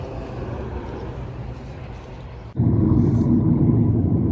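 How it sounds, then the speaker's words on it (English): A 2023 BMW M340i LCI drives on an open road with a steady low rumble of engine and tyres, which steps up abruptly into a louder, heavier drone partway through. "So right now I'm driving the M340i LCI, the 2023 version."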